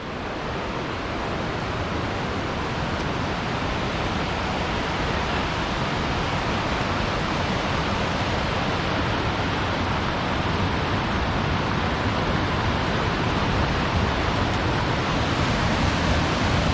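Rushing river water at a trail crossing beneath a bridge among big boulders in the Alpine Lakes Wilderness near North Bend, Washington: a loud, steady broadband roar that holds unbroken throughout, close and alone.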